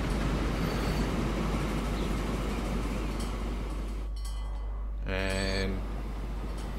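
A goods train on a machines line arriving in Transport Fever 2, a continuous rolling rumble of wagons under busy game ambience, ending in a short tonal horn-like blast.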